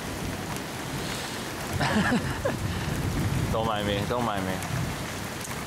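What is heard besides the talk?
heavy rain during a thunderstorm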